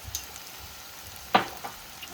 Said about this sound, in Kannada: ಈರುಳ್ಳಿ ಫ್ರೈ ಆದ್ಮೇಲೆ ಅದಕ್ಕೆ ಸ್ವಲ್ಪ ಜಿಂಜರ್ ಗಾರ್ಲಿಕ್ ಪೇಸ್ಟ್